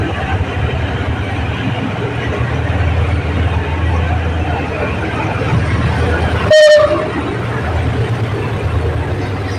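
GE diesel locomotive GEA 4554 hauling ordinary train 211 at platform 1 of Hua Lamphong station, Bangkok: a steady low engine rumble throughout, with one short, loud horn toot about two-thirds through and a voice speaking in the background.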